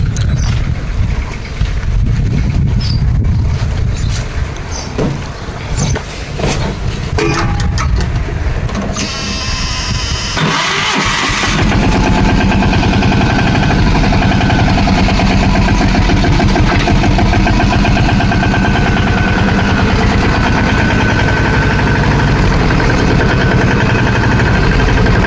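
A tractor engine runs steadily while ploughing a field in a village, a loud continuous drone with a brief rough change partway through, then constant chugging to the end.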